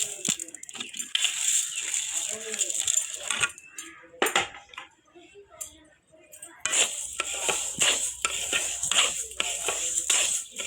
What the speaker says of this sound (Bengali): আমার কড়াই গরম হয়ে গেছে, আমি ডালটা ভেজে নেব।